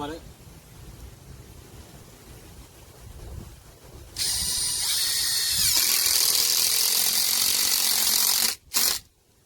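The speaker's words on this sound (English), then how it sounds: "I'm going to put a screw in it just for extra support" A power drill drives a screw into a tomato stake in the garden: after quiet rustling, a loud steady whir runs about four seconds, stops abruptly, then gives one short final burst.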